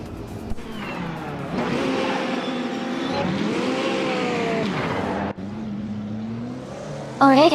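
Race cars roar off the start at Baskerville in a racing video game, engines revving and climbing steadily in pitch, loud and continuous throughout, with a brief dip before a final surge.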